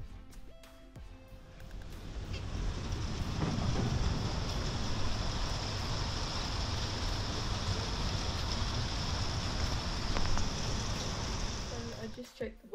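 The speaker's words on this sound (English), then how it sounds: "It is raining so much." Dense, steady hiss of heavy rain pouring down in Southampton, broadband and constant for the whole stretch, swelling slightly early on and easing near the end.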